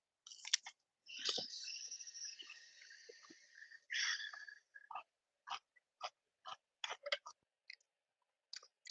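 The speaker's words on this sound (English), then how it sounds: "let me take a bite of salad" Someone chews a crunchy salad close to the mic, giving a long crisp crunch, then a run of short, separate bites and clicks with quiet gaps between them.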